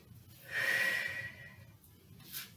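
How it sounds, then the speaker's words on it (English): A few deep breaths drawn before a dumbbell exercise, with one long audible inhale and exhale up close, followed by a shorter quiet breath. "Take a few breaths to prepare."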